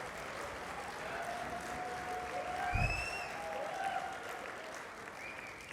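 Conference audience applauding in a hall, a fairly soft and distant patter of many hands lasting several seconds, with a faint tonal whistle or squeak drifting through and no voices.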